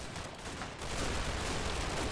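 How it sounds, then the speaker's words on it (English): A Sherman tank fires in the Combat Mission game, in a Normandy hedgerow battle. The gunfire is a dense, continuous rattle that grows louder after the first second and runs on steadily. "Sherman is shooting up something"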